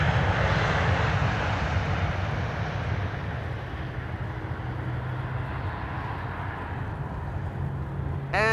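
A KLM Embraer E2 jet rolls out after touching down at Amsterdam Schiphol, its engines giving a loud, steady broadband roar that slowly eases over several seconds.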